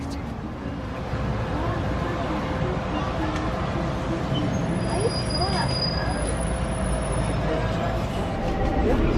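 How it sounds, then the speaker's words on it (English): A shuttle bus pulls up at a Florida resort stop, its engine rumbling steadily and close with a faint high air-brake hiss partway through, amid continuous traffic and crowd noise. "So the bus has turned up exactly on time"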